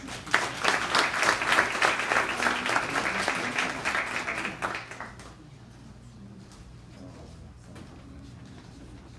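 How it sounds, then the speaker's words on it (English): Audience applause fills the room at the Hank Johnson Unsung Heroes Awards ceremony, steady clapping for about five seconds before fading into quiet room tone with a brief spoken word. "Let's give them another round of applause, ladies."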